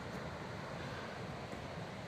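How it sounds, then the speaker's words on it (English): Evelyn Creek rushing in Jasper, a steady broad wash of flowing water that stays constant and fairly distant throughout, with no voices. "So that sound you're hearing is the Evelyn Creek"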